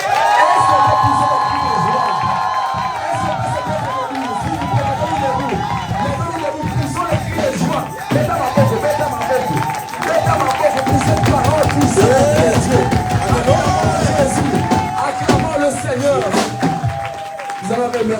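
A church congregation shouts for joy, cheering and clapping loudly and continuously, with crowd noise filling the space and a voice heard over it.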